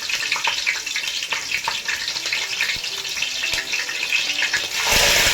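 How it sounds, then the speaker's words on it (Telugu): Green chilies, curry leaves and onions crackle and sizzle in hot oil, a close, busy frying hiss dotted with small pops that swells into a louder burst near the end. "కరివేపాకు, ఆనియన్స్ వేసి బాగా ఫ్రై చేసుకోవాలి"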